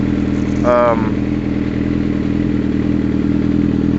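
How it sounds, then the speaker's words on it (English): A motorcycle with a loud Two Brothers aftermarket exhaust idles with a deep, steady rumble throughout; a voice briefly speaks near the start. "on this bike, I have a 2 Bros exhaust, and it's it's absurd how loud it is"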